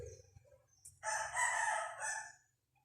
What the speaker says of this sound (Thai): มีเสียงไก่ขันด้วย